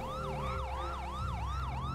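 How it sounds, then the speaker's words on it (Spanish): A police pursuit siren in GTA 5 wails steadily in a fast, repeating up-and-down yelp, loud and continuous over a low engine rumble. "Sirena de persecución, vamos para allá."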